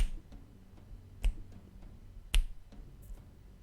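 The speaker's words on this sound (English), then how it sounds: "Snapping doesn't work as well as clapping" Two sharp finger snaps ring out about a second apart, close and crisp, between faint ticking clicks in a quiet room with no speech.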